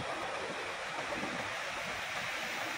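Water flows and babbles along a stream during a bicycle outing near Cagsawa, a steady, fairly close rushing wash with no voices, cutting off abruptly at the end.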